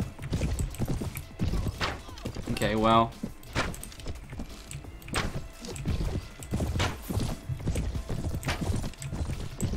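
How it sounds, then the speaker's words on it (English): Horse hooves clip-clop at a steady gallop in Mount & Blade: Warband, close and continuous across the whole stretch, with a brief whinny partway through and someone talking over the riding. "I'm riding a horse."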